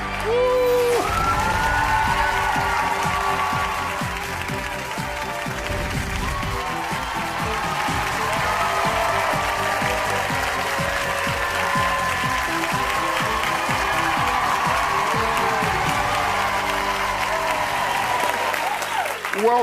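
A studio audience applauding and cheering on a talk show, a loud, sustained roar of clapping with whoops rising over it, carrying on without pause across the whole span.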